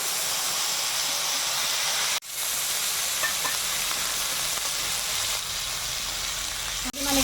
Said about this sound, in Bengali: আলুগুলো একটু তেলে ভেজে নেব।